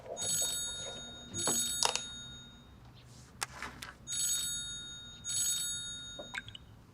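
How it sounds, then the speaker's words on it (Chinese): A telephone rings in repeated bursts of an electronic bell, moderately close, with quiet gaps between the rings and no talk over them. "刚才秀妍院长来电话了"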